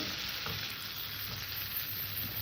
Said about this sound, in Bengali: আমার আলুটা কষা হয়ে গেছে এবার এখানে আমি দিয়ে দেবো জল